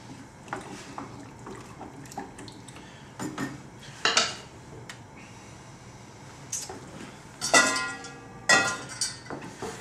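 Chestnuts dropping into a metal pot, producing a series of irregular clinks and clatters, some close and sharp, spread across the span with quiet gaps between them.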